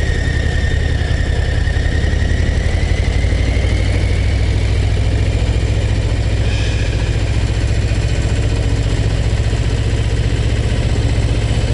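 Harley-Davidson Low Rider ST motorcycle engine running steadily in town, a continuous low rumble with a faint whine rising above it, fairly loud and unbroken throughout, with no one talking.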